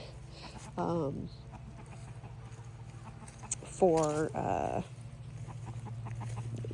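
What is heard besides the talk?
chickens clucking in the coop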